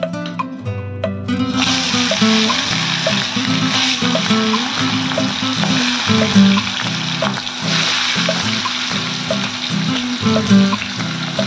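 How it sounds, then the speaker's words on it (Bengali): Pieces of katla fish fry in hot oil in a kadai, giving a steady crackling sizzle under background music for the whole stretch. "এবার মাছটাকে ভালো করে ভেজে নেব"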